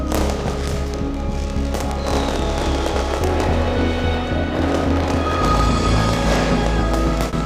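New Year's Eve fireworks and firecrackers go off in a dense, continuous crackle of pops and thuds, with a steady low rumble running beneath them.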